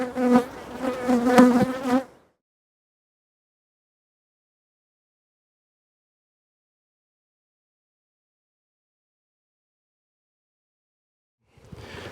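A honeybee colony buzzes at the hive in a dense, close drone for about two seconds, followed by long silence and a brief return of buzzing at the very end.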